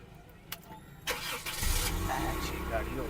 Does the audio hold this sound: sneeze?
no